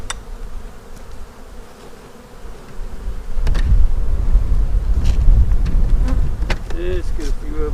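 Honey bees buzz loudly around an opened beehive during an inspection and split, a dense close swarm drone with wind buffeting the microphone.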